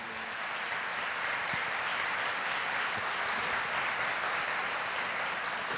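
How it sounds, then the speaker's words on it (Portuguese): A church congregation claps together in sustained, dense applause that holds at an even level from start to finish, with no talking. "Vamos aplaudir a palavra de Deus."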